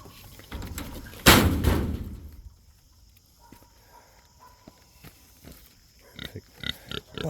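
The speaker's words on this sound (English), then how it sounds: "I gotta open her door." A pig pen door on a family farm is opened with a loud wooden bang, then a sow with piglets gives short grunts and snuffles, with scattered knocks and shuffling close by.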